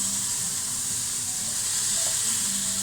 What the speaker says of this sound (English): I'm just going to fry this up now